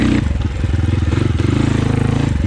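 Moto Pro RR300 dirt bike fitted with a Rekluse Radius X clutch, ridden hard over rocky off-road ground, its engine throbbing loud and close with a rapid pulsing beat and some clattering over the terrain.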